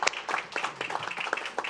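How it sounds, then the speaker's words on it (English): Scattered, uneven clapping from a small group at a board meeting in New Orleans honoring outgoing board leadership; brief, fairly quiet, with sharp individual claps. "Can we give them a round of applause on today?"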